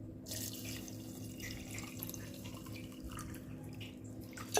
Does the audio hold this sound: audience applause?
no